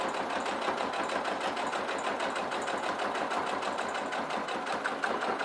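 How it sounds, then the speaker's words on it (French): Sewing machine stitching a faux leather shoulder bag with a fast, steady mechanical whir and rapid needle clatter, close and continuous with no talking. "je continue donc ma couture"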